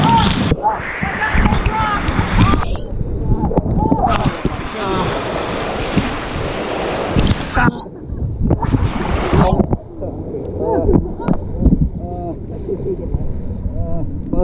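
A big raft on a water park slide at Typhoon Lagoon splashes down into water with surging whooshes and wind buffeting the microphone, while riders talk and shout over it.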